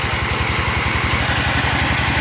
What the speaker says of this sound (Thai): ผมเห็นไม่ค่อยเห็นเครื่องแบบนี้ก็เลยขับรถผ่านนะครับ เป็นเครื่องมันเล็กๆ ดีขนาดกระทัดรัดนะครับ